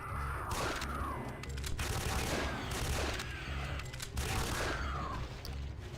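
Repeated gunfire in the Aliens Eradication Doom total conversion game, with bursts of shots and echoing blasts following one another steadily throughout, moderately loud over a low rumbling background.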